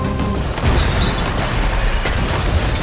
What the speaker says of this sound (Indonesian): Tanpa sadar, dia justru menarik pemicu bom. Ledakan dahsyat pun terjadi.